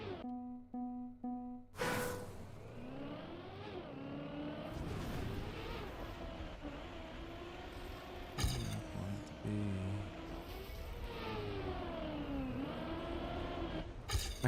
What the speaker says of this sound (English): Do you hear the engine just turn off?